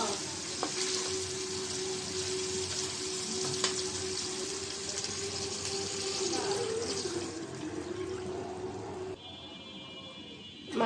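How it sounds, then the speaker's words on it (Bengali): Broth poured into a pan of katla fish curry frying in spices, a steady loud sizzle and bubbling that runs several seconds before cutting off near the end, with no talk. "এখন ঝোল দিয়ে দিব।"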